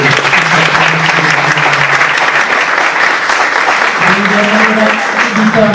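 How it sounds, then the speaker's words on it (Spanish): An audience at a consumer-protection entrepreneurship seminar applauds a conference with steady, dense clapping that fills the room, while some murmuring voices show through underneath. "Yo creo que la conferencia merece un aplauso de todos nosotros."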